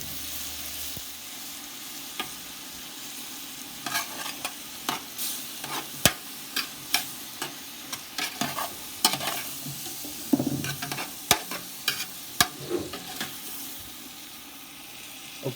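Tomatoes and onions cooking in a soup pot for hamburger minestrone, stirred with a utensil that clacks and scrapes at irregular intervals over a low, steady sizzle.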